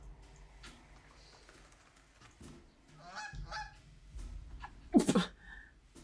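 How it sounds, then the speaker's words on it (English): A goose in the Backbone video game lets out a single sharp, loud honk near the end, following quiet background ambience with a few faint sounds. "The goose!"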